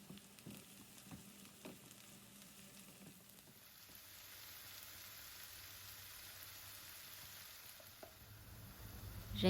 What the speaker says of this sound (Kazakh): Майға қуырамыз.